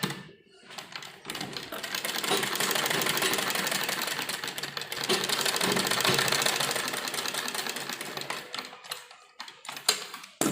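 A sewing machine runs a continuous rapid clatter while double-stitching a pleated frock, close and steady for several seconds before slowing into a few scattered clicks.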